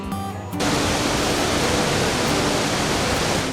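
Iguazu Falls on the Brazilian side, heard as a dense, unbroken roar of falling water that fills the space loudly and evenly after a brief quieter moment at the start.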